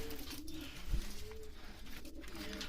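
Soft, low cooing from homing pigeons repeats over a steady background hum, fairly close, with no talking.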